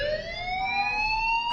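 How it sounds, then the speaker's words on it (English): A fire alarm rings in a continuous electronic tone that slowly rises in pitch, steady and moderately loud, cutting off abruptly near the end. "do you hear that fire alarm?"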